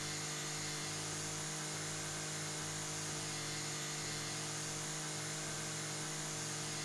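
A lawn mower mowing grass in the video game House Flipper drones steadily and loudly throughout, an unbroken motor hum with no voices.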